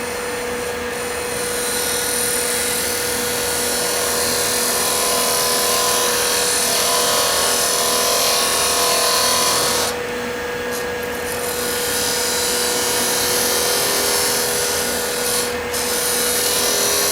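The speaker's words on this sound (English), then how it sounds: "now I'm going to come in and I'm going to cut my beads" A beading tool on a lathe or rotary setup cuts decorative beads into metal center bands, giving a loud, continuous high whine with steady tonal hum and brief changes as the cut pauses.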